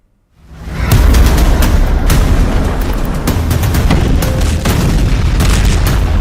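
A heavy, sustained rumble of falling bombs exploding in wartime rolls in and stays loud, with sharp cracks and blasts punctuating the dense roar.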